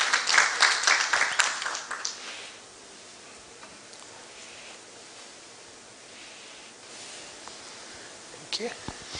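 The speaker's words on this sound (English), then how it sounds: "A round of applause for him, please." Brief burst of audience applause at a cyber security knowledge forum, loud for the first two seconds and then fading to quiet room tone with a few faint ticks.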